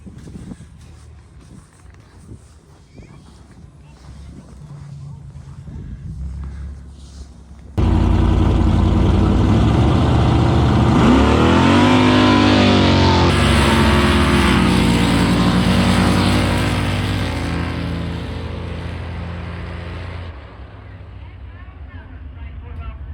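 An ice drag race car on a frozen course starts loud, roaring and revving, holds a sustained high engine howl for several seconds, then drops back to a quieter idle; quiet talking can be heard before it fires up.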